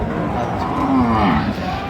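A Sahiwal-breed bull at a cattle market in Dinajpur lets out a close, loud, drawn-out moo lasting about two seconds over a busy market background.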